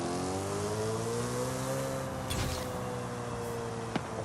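Alfa Romeo 155 engine in Forza Horizon 5 revving steadily with a rising, sustained tonal drone, loud and close, with a brief burst of noise midway and a short click near the end.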